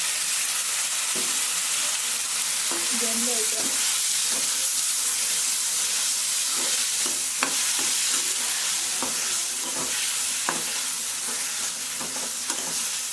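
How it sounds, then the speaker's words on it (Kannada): Loud, continuous sizzling of vegetables frying in hot oil tempering, with occasional sharp pops and scraping stirs throughout. "ಒಗ್ಗರಣೆ ಆಯಿತು ಈ ತರಕಾರಿನ ಹಾಕ್ಬಿಡ್ತೀನಿ"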